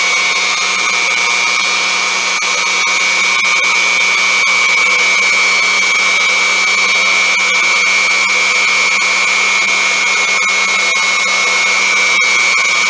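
A Unimat SL1000 mini lathe spinning a fly cutter at about 685 RPM, climb cutting metal, gives a loud, steady high-pitched whine that holds constant for the whole stretch with no talk.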